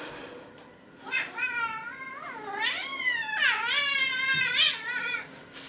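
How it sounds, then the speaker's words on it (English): A loud cat meowing insistently indoors, a string of long drawn-out wailing meows close to the microphone, one after another with short gaps. "you get to watch the cat while I do that because he's just loud"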